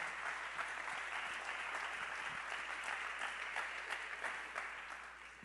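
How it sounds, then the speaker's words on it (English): A church congregation claps together during a sermon, a steady, dense wash of many hands that carries on without a break and thins slightly near the end, with no voices over it. "Somebody just clap."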